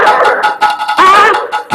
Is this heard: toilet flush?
no